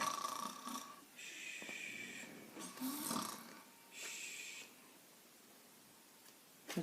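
During a bedtime story, a voice imitates a mother snoring like a horse, with several drawn-out rasping snore sounds separated by breathy pauses and faint rustling, close but soft.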